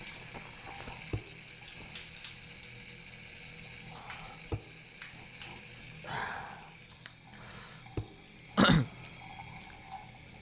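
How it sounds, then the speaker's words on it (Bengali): Tap water runs steadily into a basin as a boy washes his face, hands and feet. A faint continuous flow is broken by occasional splashes and a louder slosh near the end. "ছেলেটা না অনেকক্ষণ ধরে মুখ হাত পা ধুচ্ছে"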